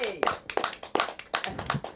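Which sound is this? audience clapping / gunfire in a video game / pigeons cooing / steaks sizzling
audience clapping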